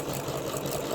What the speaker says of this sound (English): It'll start with the one stitch, and there we go. The name is going to start coming out now.